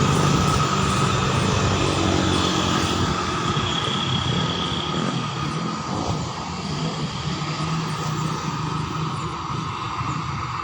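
Broad, steady jet roar of an airplane landing or taking off at Talang Betutu airport in Palembang, heard from close by at an open viewing spot, loud and continuous with no talk.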